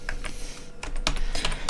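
Typing on a new computer keyboard, quick bursts of crisp key clicks with short pauses between them, close and clear with no talk.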